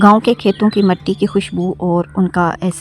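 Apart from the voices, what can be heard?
No everyday noise stands out behind the speech.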